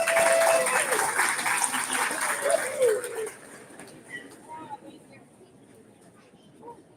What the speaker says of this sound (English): Let's give Hallie and Stella a big round of applause.